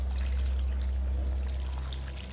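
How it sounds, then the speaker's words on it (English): Water poured steadily into a slow cooker for pea and ham soup, a continuous close splashing rush with a low full tone, loud and uninterrupted by talk. "Now I'm going to fill the slow cooker"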